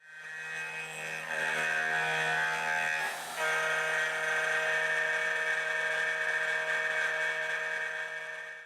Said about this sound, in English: I did a small test on a piece of steel. The bit had a lot of chatter to it, and it was a lot noisier compared to the aluminum block.